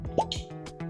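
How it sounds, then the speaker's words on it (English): A cork pops from a bottle of Wild Turkey Rare Breed bourbon, one soft, close plop with a quick rising squeak, followed by faint handling noise and a steady low hum. "There we go, the pop."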